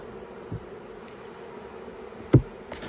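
Honey bees buzz steadily during a spring hive inspection of the brood nest, forming a faint continuous drone with a few close knocks and thuds of hive handling.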